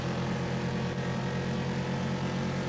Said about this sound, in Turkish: Sesi de güzel bu arada bu arabanın.